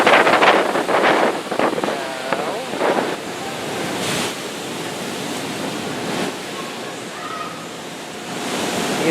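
Ocean surf rolls and washes against the shore at high tide at Seaside Heights, with strong wind buffeting the microphone in a constant roar that swells louder at the start and then settles into a steady rush.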